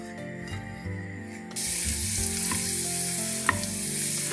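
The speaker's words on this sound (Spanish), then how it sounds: "lo he partido cada ajo en tres trozos. Y rehogo un poco." Garlic cloves, each cut into three pieces, sizzle steadily in hot oil in a kitchen, the frying growing louder and denser partway through and continuing as a close, constant crackle with occasional stirring.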